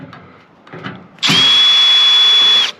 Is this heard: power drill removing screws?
yes